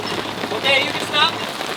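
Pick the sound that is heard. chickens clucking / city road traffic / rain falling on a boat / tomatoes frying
rain falling on a boat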